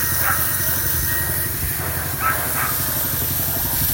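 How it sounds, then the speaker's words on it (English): A pressure washer blasts black corrosion off a beaver trap, a steady loud hiss of spray with a low pump drone beneath and brief surges as the jet shifts across the metal. "I can save myself a lot of time by getting a pressure washer on this, and you can really see the corrosion stuff coming off of it"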